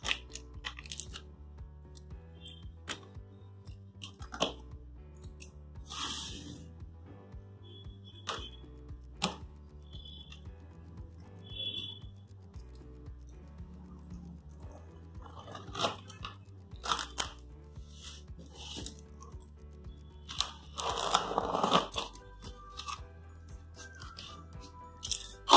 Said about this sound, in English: So now let's cut open the seal.